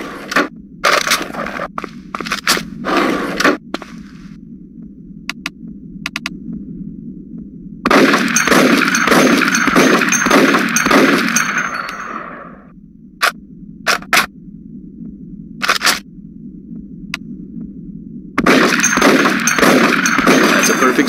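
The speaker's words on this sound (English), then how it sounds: "In this bin, we have the sniper rifle. This allows you to zoom in extremely close on your target" Sniper rifle fire in the video game Die Hard: Vendetta, with sharp, loud shots cracking out one by one at uneven gaps and tighter clusters of reports bunched together between quieter stretches.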